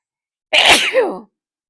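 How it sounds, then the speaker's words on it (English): A single loud, close sneeze with a sharp intake and a breathy burst, lasting under a second, followed by silence. "oh, gotta sneeze."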